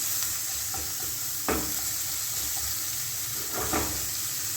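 Onion and capsicum sizzle in a pan with a constant hiss, broken by a few scraping stirs of a spatula, heard up close.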